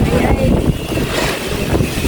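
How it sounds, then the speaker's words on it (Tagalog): Strong wind buffets the microphone with a steady low rumble and roar throughout, while a voice is faintly present in the background. "Lakas ng hangin."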